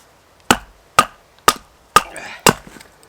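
Five sharp, evenly spaced knocks of a knife being batoned through a log to split firewood, each a loud close crack about half a second apart, with no voices.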